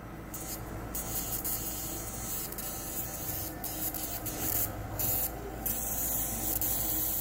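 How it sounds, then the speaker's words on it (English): Electrical discharge from an electromagnetic machine crackles through limestone as a continuous dense hiss and buzz over a steady hum. Brief sharper bursts flare up now and then across the seven seconds. "Again, you can see and hear the discharge."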